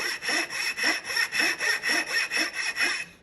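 Small gentleman's saw cutting a shallow kerf of about 1 to 1.5 mm into wood for a birdhouse, with a steady rhythmic rasp of about a dozen even back-and-forth strokes, close and clear with no talking.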